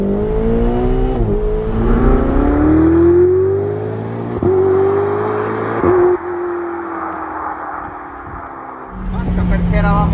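A Ferrari 488 GTB with 670 hp accelerates hard on an open road, its engine note climbing loudly through several gears with brief dips at each upshift, then settling into a lower cruising tone.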